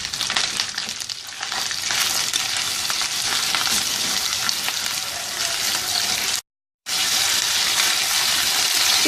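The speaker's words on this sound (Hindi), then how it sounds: "चिकन को अच्छी तरह से भून लें।" Chicken pieces sizzle and fry steadily in a hot pan for jalfrezi, a loud close crackle with stirring, broken by one brief cut to silence.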